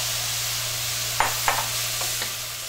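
Green onions, yellow onions, peppers and parsley sizzle in hot oil in a pan, a steady close hiss with a few soft stirring clanks near the end.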